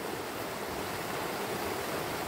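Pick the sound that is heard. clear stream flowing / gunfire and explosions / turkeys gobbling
clear stream flowing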